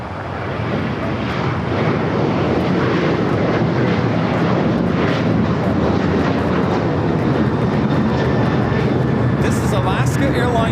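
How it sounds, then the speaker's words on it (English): An Alaska Airlines Boeing 737-900ER jet takes off from LAX for Guadalajara, a loud, continuous engine roar filling the whole stretch, with voices talking beneath it. "Alaska Airlines 1418 taking off to Guadalajara on the 737-900ER"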